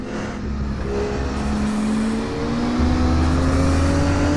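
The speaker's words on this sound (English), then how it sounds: "Let's take a ride with John Spriggs and listen to the engine" Race car engine on the Donington Park circuit in a sim racing game, loud and close, with rising and falling revs through gear changes and a sustained droning tone throughout.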